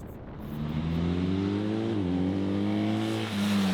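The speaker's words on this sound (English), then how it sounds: "I also love how the engine likes to be revved." BMW R 1300 GS motorcycle with its boxer engine revving hard, a loud steady engine roar with rising and dipping tones, close and alone for the whole stretch with no voices.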